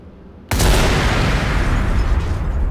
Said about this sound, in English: I just put a bunch of landmines on the floor and blew them up